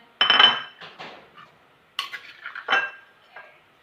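Food being served onto plates in a home kitchen, with a few separate clinks and knocks of dishes and utensils, clear and close against quiet.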